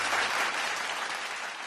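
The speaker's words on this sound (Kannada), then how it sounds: "ಅದಕ್ಕಾಗಿ ಒಂದು ಚಪ್ಪಾಳೆ." A studio audience on the Kannada TV show Suvarna Superstar season 2 applauds in a full, even wash of clapping that carries on for under two seconds.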